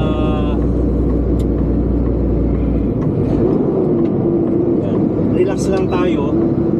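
A truck and trailer hauling a 45-ton load climbs a mountain road, its engine and drivetrain producing a heavy, continuous low rumble with a voice talking over it.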